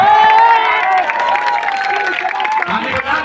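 Crowd at a political rally in Bihar cheering and clapping, a dense, loud wash of voices and applause that holds steady throughout with a brief dip near the end.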